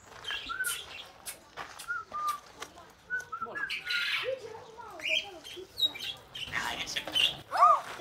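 At an animal park, a parrot gives a string of chirps, squawks and whistles, some with a voice-like mimicking quality. The calls are loud and close, arriving in short irregular bursts.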